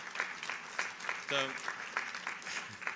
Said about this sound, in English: I like partial clapping